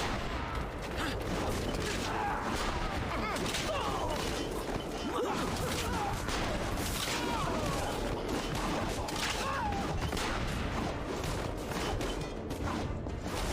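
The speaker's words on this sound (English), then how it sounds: "But I'm super Ezio, so I can just shoot them" Gunfire rings out in Assassin's Creed Revelations, a battle din of scattered shots and crashes filling the whole stretch at a steady loud level, with voices mixed in underneath.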